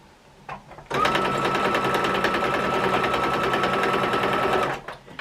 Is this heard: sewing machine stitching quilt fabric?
yes